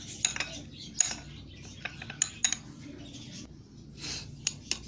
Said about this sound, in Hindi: इसे अब हम अच्छे से मिक्स कर लेंगे दोनों चीज़ों को।